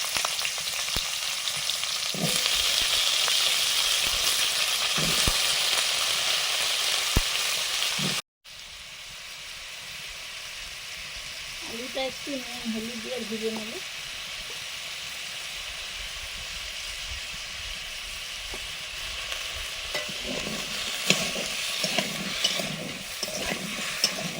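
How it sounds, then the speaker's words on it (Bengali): Potatoes frying in mustard oil in a wok, a continuous close sizzle with occasional crackles and stirring clatter, briefly cut off before resuming slightly quieter. "কড়াতে একটু সর্ষের তেল দিয়ে আলুগুলো একটু ভেজে নিচ্ছি"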